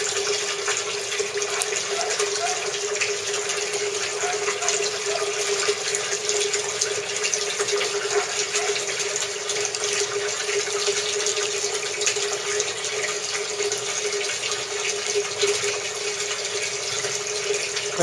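Steady rushing and gurgling of water draining through an aquaponics bell siphon in a solar-pumped setup, continuous and fairly loud throughout with no talk.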